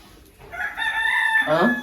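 A rooster crows once, loud and close, the call rising and then breaking off.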